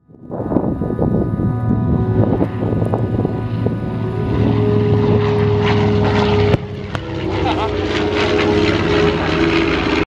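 Propeller aircraft engines roaring at the Sun 'n Fun air show, a loud, steady, close drone with rising pitch as the plane passes, with wind noise and no voices.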